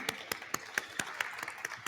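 A small conference audience applauds at an agricultural startup forum, a sparse, fairly quiet patter of individual claps at an even rhythm.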